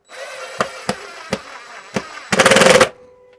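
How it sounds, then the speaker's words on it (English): An impact driver or screwdriver is used beside a Macintosh Performa / LC575 with a CRT, giving several short sharp bursts followed by a longer buzzing whir, close and loud, while a faint tonal CRT hum lingers underneath. "the impact gun there."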